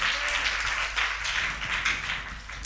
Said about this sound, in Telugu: చప్పట్లు కొట్టి దేవుని స్థుతించాడు